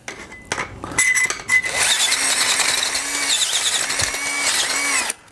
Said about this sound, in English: And I'm just trying to enlarge the hole just a little bit to get this to fit through here.